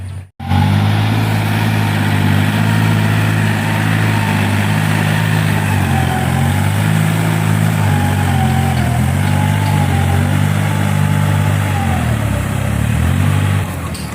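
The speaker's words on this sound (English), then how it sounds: "These little tractors are pretty good" Small tractors run steadily nearby, their engines droning with a constant low hum and a faint wavering higher whine, loud and uninterrupted after a brief cut at the start.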